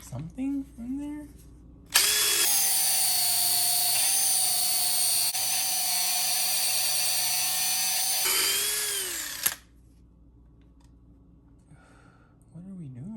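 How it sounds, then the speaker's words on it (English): A power grinder works metal on a 1968 Mustang in a garage, a loud sustained whine lasting about six seconds that starts and stops abruptly, with brief talk before and after. "it's gonna take me forever to grind all this up here."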